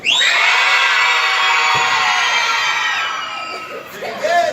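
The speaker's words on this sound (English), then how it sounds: "my side screams as loud as they can" A large convention crowd at a comic fest screams at full volume in one sustained roar lasting several seconds, dense with high-pitched shrieks, before tapering off as a few voices and chatter emerge.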